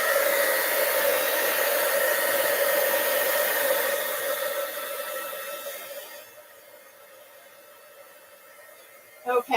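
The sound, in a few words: heat gun drying watercolor paint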